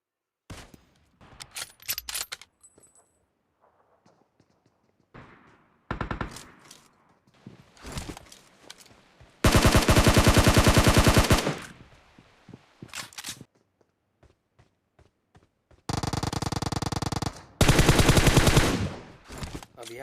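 Loud bursts of automatic gunfire from a PUBG Mobile squad fight, with two long sustained volleys and scattered shorter shots and clicks between them, no talk.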